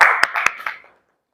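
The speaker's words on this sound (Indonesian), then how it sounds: "boleh beri tepuk tangan untuk Zila." A small classroom group at a university session gives a short burst of hand clapping, a few distinct claps standing out, then fading to silence within a second.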